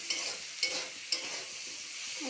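Spice paste with ginger paste being sautéed in a pan: a soft continuous sizzle with three sharp scrapes of the spoon at even intervals, fairly quiet and close, no voices.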